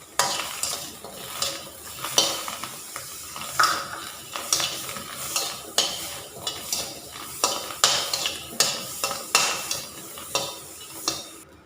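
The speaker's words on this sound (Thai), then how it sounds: "คั่วพวกนี้ต้องใส่เกลือเนาะใส่นิดนึงเดี๋ยวมันสิแสบ" Chilies, garlic, shallots and young galangal dry-roasting with a pinch of salt in a pan, heard as steady scraping stirs and light sizzling with clinks of the utensil against the metal, rhythmic and close, with no talk.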